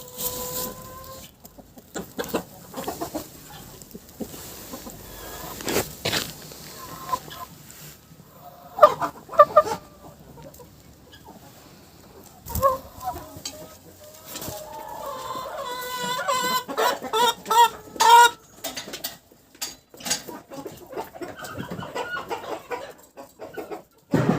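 Cochin chickens cluck repeatedly nearby in short irregular bursts, with a few louder squawks and scattered clatter in the background.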